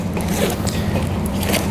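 A zipper runs on the waist-belt pocket of an Arei Sentani 70-liter backpacking carrier, giving a loud, close, continuous rasp that lasts under two seconds.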